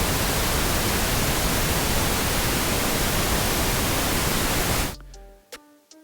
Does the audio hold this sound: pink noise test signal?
yes